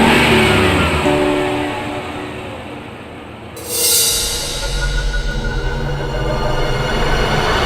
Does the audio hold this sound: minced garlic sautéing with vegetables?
no